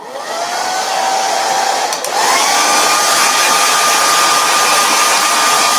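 Hair dryer blowing on a stained watermelon door round decorated with silkscreen transfers, a loud steady close whine and rush with a brief pitch shift partway, no talking.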